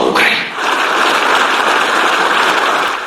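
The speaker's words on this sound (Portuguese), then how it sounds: "Zelensky foi aplaudido de pé pelos eurodeputados" Sustained, dense applause from members of the European Parliament after Zelensky's address, a loud continuous wash of clapping filling the chamber throughout.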